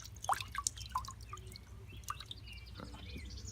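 Water drips from an Anker Soundcore Flare speaker just lifted out of water, a series of small, irregular close-up drips and trickles over a faint steady background hum.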